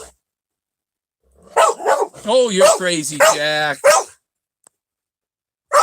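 A dog reacting to coyotes outside, letting out excited whimpering yips and barks in a short burst while a person talks over it.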